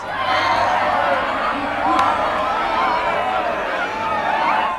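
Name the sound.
rambunctious crowd noise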